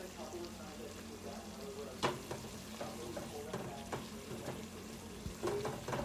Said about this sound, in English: Frying collard greens with cabbage.